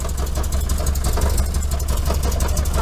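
A 1973 VW Super Beetle air-cooled engine idles with a leaking muffler, giving a steady, close, loud low rumble with a faint rattly chuff throughout.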